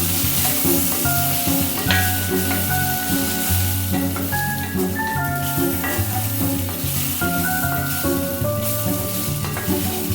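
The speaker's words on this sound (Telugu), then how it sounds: "క్యాస్ట్ ఐరన్లో చాలా బాగా రోస్ట్ అవుతాయండి తక్కువ ఆయిల్తో" Potato fingers roast in a cast iron pan with very little oil, giving a steady, even sizzle throughout, with tonal background music layered over it.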